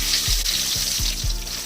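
Potato and egg fry in hot oil, a steady bright sizzle running for under two seconds, with several low thumps and clatters of the pan or utensil underneath.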